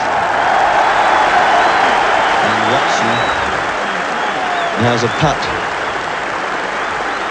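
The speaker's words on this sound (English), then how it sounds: "There's the crowd." A large golf crowd applauds steadily around the final hole of The Open, a broad continuous clapping that carries on under a commentator speaking.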